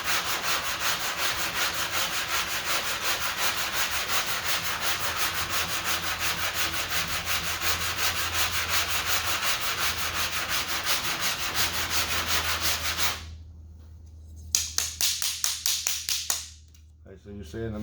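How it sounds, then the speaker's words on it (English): Continuous rhythmic sanding of body filler on a dented car panel, a steady loud scraping rub for most of the stretch, then a pause followed by a few shorter strokes while someone talks. "So we're gonna sand this up here a little bit and this down here a little bit more."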